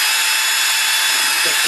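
A power drill fitted with a 3.2mm bit bores through board while fitting Megapoint servo controllers, a steady high whine running loud and close throughout the short stretch, with faint rubbing near the end.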